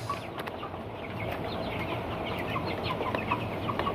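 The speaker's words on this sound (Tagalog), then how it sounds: "Yan po ang aking mga broiler chickens, 2 weeks old, dito sa baba." A flock of two-week-old broiler chickens in a backyard keeps up soft, overlapping clucks and peeps, close and continuous, over a low background hum.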